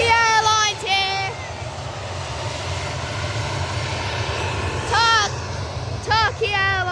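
A Turkish Airlines airliner lands at Manchester Airport, its engine roar a steady broad rumble throughout, with a voice speaking briefly over it at the start and again near the end.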